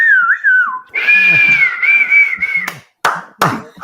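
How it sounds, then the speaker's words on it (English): Loud, close human whistling in long sustained tones with a few sliding pitch bends, followed by short sharp bursts that sound like claps or knocks near the end. "I'm not sure those whistles translate well."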